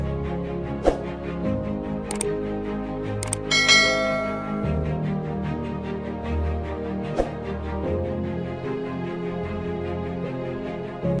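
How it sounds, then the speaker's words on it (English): A bell rings in a steady, resonant run with sustained tones, several brighter strikes standing out against the ringing; no talking. "Then click on the bell."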